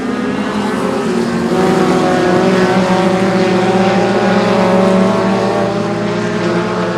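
Short track race cars roar around a small oval toward the white flag, a dense, steady engine drone that holds loud and close throughout with no talk over it.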